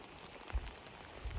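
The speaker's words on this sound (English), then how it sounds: "It's pissing it down." Heavy rain falls during a motorcycle camping trip in Scotland, a steady, dense hiss of drops on a surface with a couple of louder low thumps.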